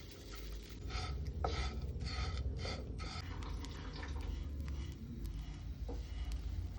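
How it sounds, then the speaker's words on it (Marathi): Dried small shrimp (jawla) dry-roast in a pan for a chutney, making quiet, rhythmic scraping and rustling as they are stirred, a steady soft dry crackle with repeated stroke bursts. "आता घेऊया जवला भाजून."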